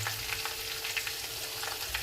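Onion fries in hot oil for a chickpea-flour chutney, a dense, close, continuous sizzle with soft crackles and no voices.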